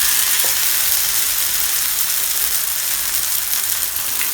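Jamaican fritters frying in hot oil, giving a steady, loud, dense sizzle and crackle that runs throughout without any talk.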